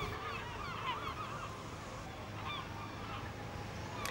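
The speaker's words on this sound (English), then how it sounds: "as the light fades and the catch is offloaded under the watchful eye of the ever-present seagulls" Seabirds call over a Devon fishing harbour at dusk as the catch is unloaded, with several overlapping squawks against steady broadband harbour noise.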